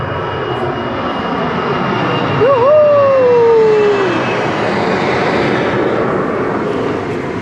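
An Azul airliner jet taking off at Santos Dumont airport in Rio de Janeiro, a loud sustained engine roar with a rising whine that swells midway and then holds steady.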